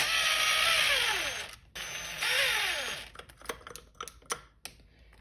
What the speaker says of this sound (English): Let's go ahead and unscrew these so we can check the reeds out.